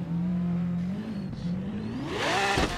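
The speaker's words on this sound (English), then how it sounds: "This is a Lamborghini." A Lamborghini's engine revs hard in Forza Horizon, a loud sustained mid-pitched drone that climbs in pitch toward the end with a burst of tire or wind noise, while no one speaks.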